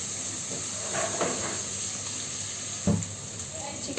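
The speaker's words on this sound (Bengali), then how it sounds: "তো আমি পেঁয়াজটা একটু ভেজে নিই।" Onions fry in a pan with an even hissing sizzle, close up, marked by a few light knocks and one sharper clack of a utensil against the pan.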